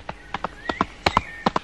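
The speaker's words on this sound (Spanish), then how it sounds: "¡Ese es mi caballo lindo!" Horse in a 1964 Mexican film scene, heard as a quick series of sharp hoof clops with a faint whinny-like tone, close and clear, with no talking.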